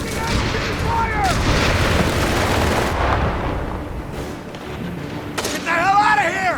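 A heavy machine gun team fires steadily in the World War II strategy game Company of Heroes 3, with dense gunfire, distant booms and battle noise throughout and soldiers' voices shouting over it.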